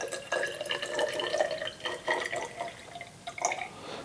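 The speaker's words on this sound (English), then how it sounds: "let's pour 30 milliliters of water." Tap water poured into a small 50 millilitre measuring container, a steady close splashing trickle that runs for several seconds with slight shifts in flow and no talking.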